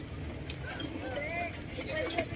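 Horse hooves clip-clop at Burnham Park in Baguio, a light irregular clatter of footfalls at a moderate distance amid outdoor park noise, with people chatting nearby.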